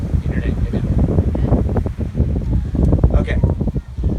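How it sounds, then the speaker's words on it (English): Strong wind buffets the microphone outdoors at a beach wedding ceremony in Mexico, a loud continuous rumble with gusts and a voice speaking faintly beneath it. "and it's windy"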